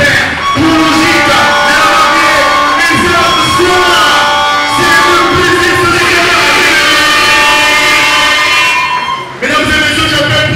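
Crowd at a Congolese music tribute event cheering and applauding loudly, a dense continuous roar with shouts and whoops over music, fading briefly near the end before rising again.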